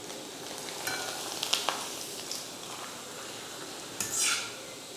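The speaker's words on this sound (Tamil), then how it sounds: "அதில் அப்பளத்தை பொரிச்சு எடுத்துட்டு அதுக்கப்புறம் கருவாடு வறுத்துக்கலாம்." Papadum frying in hot oil in a home kitchen, a faint, fizzy sizzle with a few light clinks of utensils and a louder burst of bubbling near the end.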